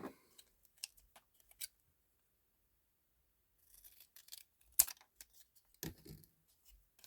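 Blade cuts through diorama board in a few short, crisp snips and scrapes, separated by quiet gaps, close and fairly faint.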